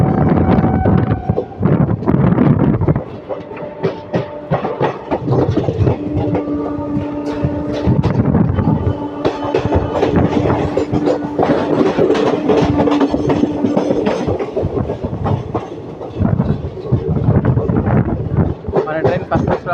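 Hyderabad Express running out of Chennai toward Tulluru Peta, a steady rumbling roll with rhythmic clatter and some wind buffeting, loud and close throughout, with voices talking over it.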